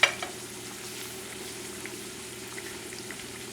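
New Orleans beignets, Cafe Du Monde style, fry in hot oil with a steady, close bubbling sizzle that runs alone throughout, with a slight knock at the start.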